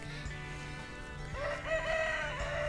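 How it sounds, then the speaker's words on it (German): A rooster crows once in the farming game Professional Farming Cattle and Crops, a rising then drawn-out cry over a steady low hum and soft background music. "Der Hahn ist immer hier"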